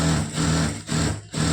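An electric sewing machine stitches a long seam on a lined blouse, a close steady motor whir broken by two brief pauses as the stitching stops and restarts.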